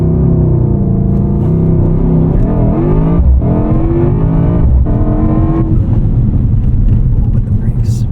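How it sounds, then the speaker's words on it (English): A 2024 Mercedes-AMG GT 63 S E Performance 4-Door hybrid sedan doing a launch-control start, its engine note rising and falling in strong revving sweeps as it pulls hard through gears, loud from inside the cabin, with people talking over it. "let's do a launch control here"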